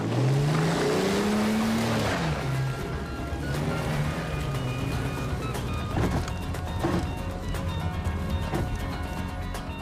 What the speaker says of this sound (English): Jump in, I'll show you a real motor.